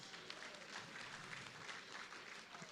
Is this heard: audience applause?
yes